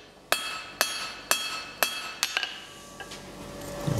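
A hammer forging a taper on a hot steel bar on an anvil rings out in six sharp, evenly spaced metallic blows, close and clear, the last strikes lighter and quicker before fading.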